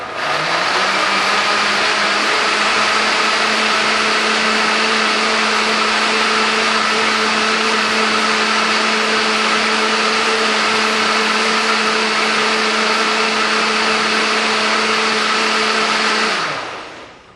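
A kitchen blender making a smoothie runs steadily at high speed for a long stretch, a loud whirring drone that cuts off abruptly at the end.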